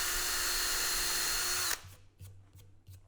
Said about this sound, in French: un forêt avec la fraise au bout. Donc, l'outil 2 en 1 que je vous parlais dans la présentation de ma caisse à outils